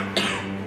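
A single short, sharp cough bursts out once, close and moderately loud, then fades quickly.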